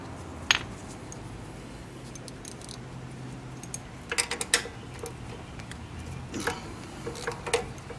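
An 8 mm socket works loose the kickstart bolt on a GY6 150 cc scooter engine, with quiet clicking ratchet ticks and small metallic taps scattered over a faint background.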